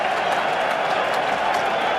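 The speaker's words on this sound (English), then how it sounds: "And the cheers are for Nathan Lyon." A cricket crowd cheers and applauds at a match, a dense continuous roar of many voices and claps, loud and steady without pause.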